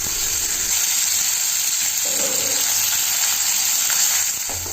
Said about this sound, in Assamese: এতিয়া তাতে মাংসখিনি ঢালি দিছোঁ